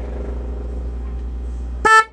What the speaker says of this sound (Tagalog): Yan, yung mga ito, busina. Subukan natin.